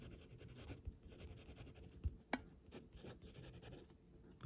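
A brass fountain pen with a steel fine nib writes on paper, producing faint, soft scratching strokes at an irregular rhythm, with a few slightly sharper taps, heard close up in a quiet room.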